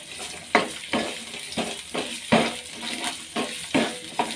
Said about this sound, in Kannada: ಈರುಳ್ಳಿ, ಬೆಳ್ಳುಳ್ಳಿ, ಕಾಳು ಮೆಣಸು ಮತ್ತು ಚಕ್ಕೆ ಲವಂಗ ಇವೆಲ್ಲ ಹಾಕಿ ಚೆನ್ನಾಗಿ ಫ್ರೈ ಮಾಡ್ಕೋಬೇಕು